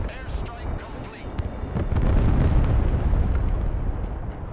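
Rumbling airstrike explosions in a strategy video game roll through in a loud, dense wash with scattered sharp pops, rising in the second half and sustained to the end.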